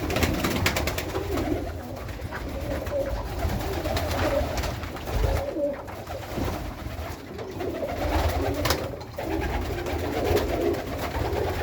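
Pigeons cooing in low, soft repeated calls inside a pigeon loft, several birds overlapping against a rustling background, with no voices.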